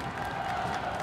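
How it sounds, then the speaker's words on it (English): Distant roar of a college football stadium crowd, a dense continuous wash of cheering and murmur holding steady for a brief moment. "We've got the crowd just on their feet with anticipation"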